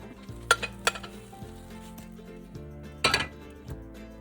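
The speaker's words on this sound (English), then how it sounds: "I'm going to slide it off onto the plate and fold it over on itself" A Boursin cheese omelette slid from a pan onto a plate and folded, with a few sharp metallic clinks of utensil against pan over a soft sizzle, close and fairly quiet.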